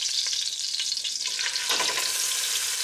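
Ribs brown in a hot pan with a bright, steady sizzle close up, and the spattering surges briefly partway through as more meat goes in.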